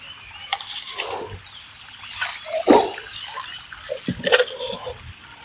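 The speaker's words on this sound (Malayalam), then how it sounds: "ഇനി നമ്മുടെ ഈ സ്ലറി നേർപ്പിച്ച് നമുക്ക് നമ്മുടെ വീട്ടിലുള്ള എല്ലാ പച്ചക്കറികൾക്കും ഒഴിച്ചു കൊടുക്കാം." Diluted organic slurry is poured onto vegetable plants in uneven trickles and soft splashes that rise and fall. The sound is close and fairly quiet, with a few louder gushes.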